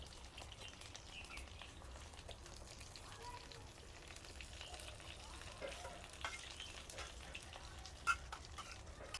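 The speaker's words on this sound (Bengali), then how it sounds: "একটা একটা করে হালকা হালকা করে উলট পালট করে ভালো করে মাছটাকে ভেজে নিচ্ছি।" Bhetki fish paturi parcels fry in oil in a pan, giving a faint, steady sizzle with occasional soft crackles and stirring sounds, a quiet continuous cooking texture heard alone.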